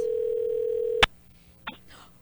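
A steady tone sounds on an outgoing telephone call, holding for about a second before a sharp click cuts it off, followed by a brief fainter blip in near silence.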